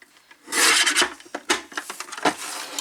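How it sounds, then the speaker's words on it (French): An old paper trimmer blade slices through paper in a rough, scraping rasp, starting with a long drawn cut then several shorter irregular scrapes and rubs, close and fairly loud. "ça va être beaucoup plus précis parce que la lame de mon massicot est vieille"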